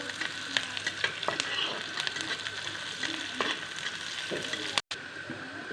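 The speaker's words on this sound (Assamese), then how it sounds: "পিঁয়াজখিনি অলপ ভাজিব লাগিব।" Chopped onions fry in hot oil in a wok, giving a steady, close crackling sizzle with a few stirring scrapes and clicks throughout, then a brief dropout near the end.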